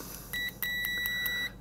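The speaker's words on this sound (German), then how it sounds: "Da man hört es piepen." A multimeter's continuity tester beeps across a fuse, giving a short electronic tone followed by a longer steady beep, clear and close against a faint background hum.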